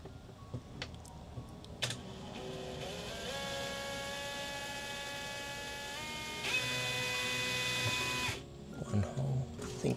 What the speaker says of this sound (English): Okay, drill incoming.